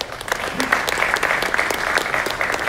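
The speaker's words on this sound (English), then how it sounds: "we give these people a big round of applause, please" Steady applause from a crowd at a boxing press conference, many hands clapping continuously at close range with no pauses, loud and even throughout.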